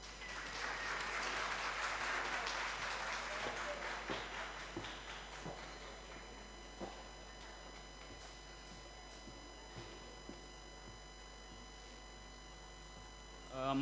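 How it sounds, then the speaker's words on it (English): Conference audience at a midwifery, obstetric, neonatal and child health meeting applauding a facilitator, a burst of clapping that is fairly faint and distant, peaking early and fading into sparse scattered claps. "May we please kindly welcome him with a warm round of applause."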